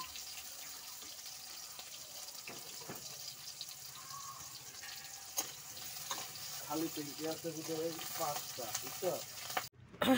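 Rice frying in a pan, a steady close sizzle with scraping stir sounds and a few clinks and splashes building toward the end.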